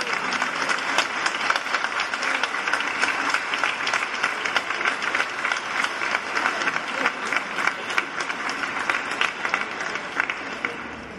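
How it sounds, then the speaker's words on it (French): A large church congregation claps for married couples celebrating long anniversaries, steady loud applause with sharp individual claps poking through the dense roar throughout. "si vous applaudissez-les"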